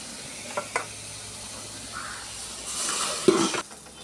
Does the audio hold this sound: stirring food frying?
yes